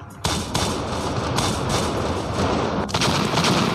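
Dense, continuous gunfire and explosive thuds fill a battle scene in the video game Call of Courage, a loud, sustained barrage with no clear gaps between shots.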